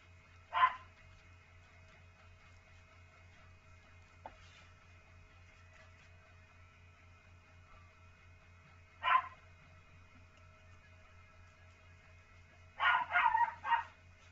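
A dog barks at a distance, a single bark, another several seconds later, then a quick burst of barks near the end, over a low steady hum.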